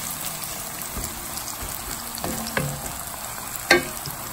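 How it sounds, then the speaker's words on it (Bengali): Onions and garlic frying in a pan for a Bengali shrimp and arum-lobe curry, a steady soft sizzle with a few scraping stir clicks and a brighter crackle near the end, no talking. "এখন আমরা পেঁয়াজটাকে নরম করে নিব"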